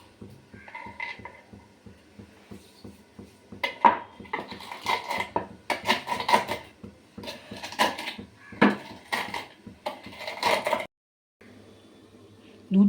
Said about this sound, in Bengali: এখন ভাজা বড়িগুলো আমি ভালো করে গুঁড়িয়ে নেব